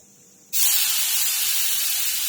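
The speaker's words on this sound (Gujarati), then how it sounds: "आपणे हवे पाणी एड करीशुं अंदर।" Water poured into hot roasted semolina (rava) hits the pan with a sudden loud sizzling hiss that starts abruptly after a quiet moment and stays strong and steady to the end.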